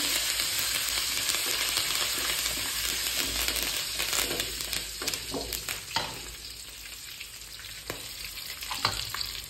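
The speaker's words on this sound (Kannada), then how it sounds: "ಈಗ ಬೇವಿನ ಸೊಪ್ಪು ಹಾಕ್ತಿದ್ದೇನೆ. ಸ್ವಲ್ಪ ಫ್ರೈ ಮಾಡ್ಕೊಳ್ಳಿ." Curry leaves crackle and sizzle in hot oil for onion chitranna rice. The frying is loud at first and settles to a softer hiss, with a few sharp spits and pops toward the end.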